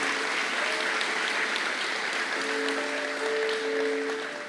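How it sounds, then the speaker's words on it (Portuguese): A men's church gathering breaks into sustained applause, a dense roomful of clapping that holds steady with faint tonal hum beneath before easing slightly at the end. "Se é para Jesus, pode aplaudir, cara"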